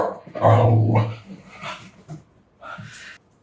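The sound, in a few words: dog barking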